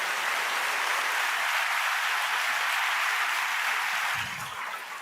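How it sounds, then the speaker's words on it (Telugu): A church congregation applauds during a Telugu Christian sermon and testimony, broad sustained clapping that fades slightly toward the end. "ఈరోజు మీరు చప్పట్లు కొట్టాలనిపించట్లేదా?"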